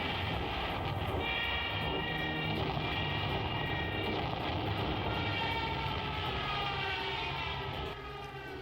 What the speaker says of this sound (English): The Stutka and Me-109 planes take control of the air and bomb all the Allied fronts